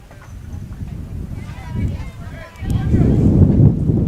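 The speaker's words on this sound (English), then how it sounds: "Another big gust of wind, as that is our main foe here this afternoon." Strong wind gusts buffet the microphone at an outdoor afternoon softball game, producing heavy low rumbling bursts that surge loudest near the end, with a commentator talking over them.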